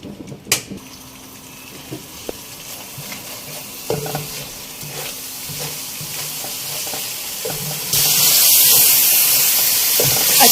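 Homemade tomato puree fries and sizzles in a pan as a spoon stirs and scrapes through it, with sharp clinks early on and a louder, hissing sizzle building toward the end.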